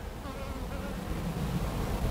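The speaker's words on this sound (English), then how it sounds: "a lot of happy bees" Honey bees buzz around a hive on a partly cloudy, slightly windy afternoon, a steady, close, continuous hum that fills the whole moment.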